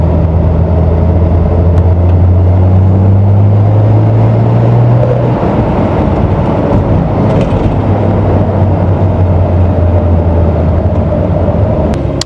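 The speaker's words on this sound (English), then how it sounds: "even when you're stopped at a traffic light like this, I can feel the vibrations from the engine" A Nissan GT-R idles at a traffic light, heard from inside the car as a steady, low, rumbling drone with a faint mechanical hum above it, continuous and unbroken throughout.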